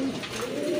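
A pair of pigeons kept for sale coos in a low, steady, sustained call, close and fairly loud, with no speech over it.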